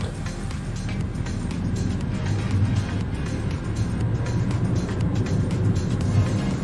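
A Datsun pulls away from a stop in second gear, its engine droning loud and close with a rough, throbbing rumble that builds under steady throttle.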